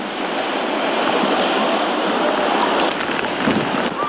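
Heavy storm rain and wind lash the coast of Cagayan, a loud, unbroken roaring wash with surf-like surges and no voices.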